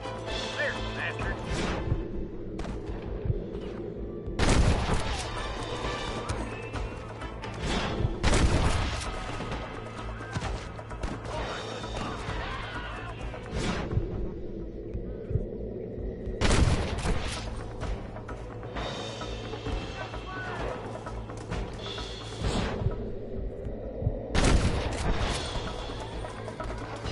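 Gunfire from shootouts with rustlers in Red Dead Redemption on PS4 rings out in several sharp bursts around 4, 8, 14, 16 and 24 seconds, set against a steady game ambience with voices talking throughout.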